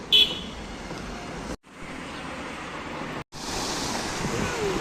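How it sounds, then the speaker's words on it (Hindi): A waterfall's steady broadband roar, loud and continuous, heard outdoors with wind buffeting the microphone and two brief dropouts. "देखिए वाटरफॉल"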